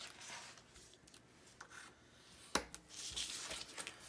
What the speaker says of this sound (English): I'm gonna score the bottom of these just to help myself out in folding.